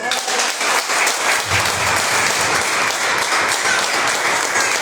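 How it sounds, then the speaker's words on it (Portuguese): A church congregation applauds in praise during a service, a full, even roar of many hands clapping continuously and loudly throughout. "Aplauda o Senhor."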